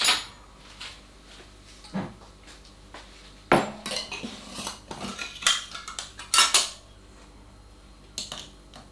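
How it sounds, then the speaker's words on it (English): A metal spoon clinks and scrapes against a bowl in scattered bursts as sifted icing sugar is spooned in for a clotted cream and strawberry loaf cake, close and with no talking. "And then 2 tablespoons sifted of icing sugar."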